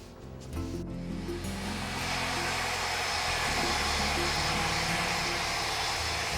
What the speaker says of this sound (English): take a hot blow dryer